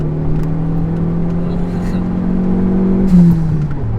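A Dodge SRT4 accelerates in the fast lane, its engine droning steadily with a rising pitch close inside the cabin and a brief louder surge near the end.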